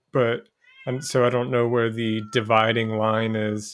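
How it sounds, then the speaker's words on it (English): A pet cat meows repeatedly, long tonal cries close to the microphone, overlapping and alternating with a person speaking. "can you hear that? That's my cat."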